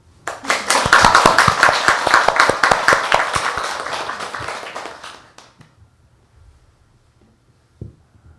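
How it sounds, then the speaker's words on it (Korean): An audience claps together at a Buddhist temple service, a dense burst of handclaps lasting about five seconds, rising quickly, then thinning out and fading into near silence with a single late clap. "박수 한번."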